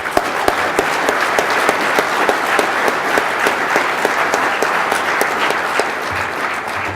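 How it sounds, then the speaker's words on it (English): A crowd at a baseball analytics conference applauds continuously, loud and dense clapping holding steady for several seconds. "let's give them a round of applause and gratitude."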